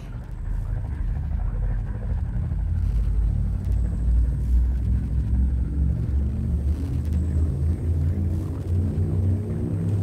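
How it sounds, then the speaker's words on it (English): A ship's frame shift drive charging in a space video game: a steady, loud, deep rumbling drone that swells slightly over about ten seconds, with a faint high tone above it. "Frame ship drive charging."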